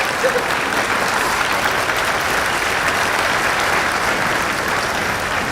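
Steady, dense applause from a large crowd at a veterinary white coat ceremony in a hall, sustained and even for the whole stretch without pause.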